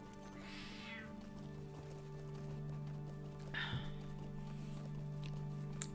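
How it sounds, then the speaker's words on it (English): A cat meows twice, a few seconds apart, over a steady low electrical hum in a quiet room. "my cat would like to say hello to everybody"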